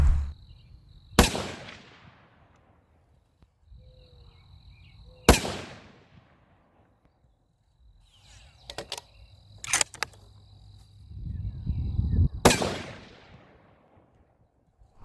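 A 7mm PRC rifle firing 195-grain Berger Elite Hunter bullets at the range: three loud, sharp, isolated shots several seconds apart, each with a ringing decay, and quieter clicks and handling noises between them.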